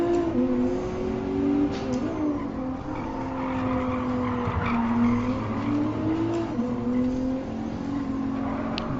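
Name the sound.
race car braking and skidding in video game Gran Turismo Sport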